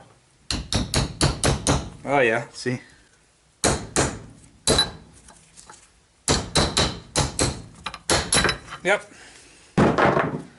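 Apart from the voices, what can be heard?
hammer tapping new seal into Yamaha ATV front hub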